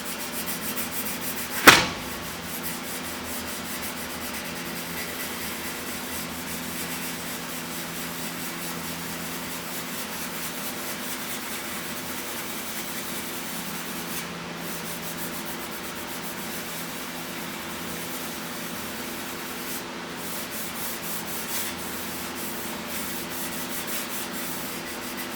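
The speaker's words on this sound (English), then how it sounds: "it does rub through a little bit of this paint, but to get the rust off" Steady abrasive rubbing of paint and rust off a metal surface, a continuous scratchy scrape with one sharp knock near the start, close and fairly loud.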